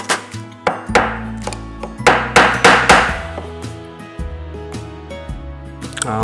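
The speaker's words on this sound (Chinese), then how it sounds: "这铁针是特别设计过的，所以一敲这个钉型就会呈现出来。" A hammer taps a metal staple over an iron pin during porcelain riveting, a string of close, bright metallic strikes with short ringing tails, some quick and clustered, others spaced apart.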